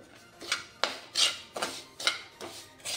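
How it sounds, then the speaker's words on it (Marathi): A utensil scraping and stirring amla pickle spice masala with asafoetida in a pan, with about six rhythmic rasping strokes, close and fairly soft, and no voices. "आपल्या आवळ्याच्या लोणच्याच्या मसाल्याला 2 मिनिटापासून मी परतवत आहे"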